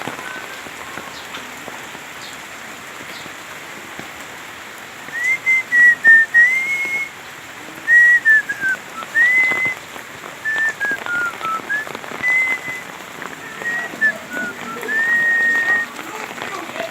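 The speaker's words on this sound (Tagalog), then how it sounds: "Umuulan. It's rainy season here in the Philippines." Steady rain falling outdoors behind a house during the Philippine rainy season, a constant hiss of drops on surfaces with a faint wavering whistle over it in the second half.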